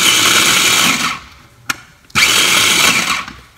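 A kitchen blender grinds chopped vegetables for a veggie frittata in two loud, close bursts of whirring motor, split by a short pause with a small knock.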